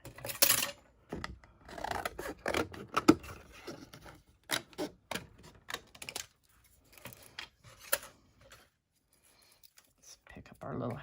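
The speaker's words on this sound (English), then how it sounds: "Go ahead and trim this down again." Scissors trimming a paper house cutout, a series of close irregular snips and paper rustles, with someone speaking in between.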